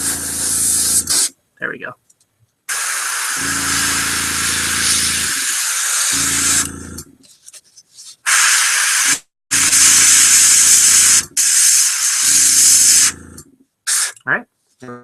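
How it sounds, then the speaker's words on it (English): An airbrush sprays gray paint in loud, sustained hissing bursts, starting and stopping repeatedly with brief pauses between passes, close and dominant, with a short spoken remark in between. "Okay, so airbrushing part's done."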